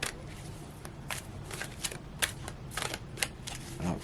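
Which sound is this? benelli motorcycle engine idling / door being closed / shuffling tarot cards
shuffling tarot cards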